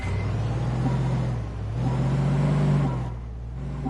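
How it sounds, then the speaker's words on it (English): Tank engine idling and rumbling in a PS4 combat video game, a loud steady low drone that dips and rises slightly as the vehicle drives, with no talk over it. "You hear the engine?"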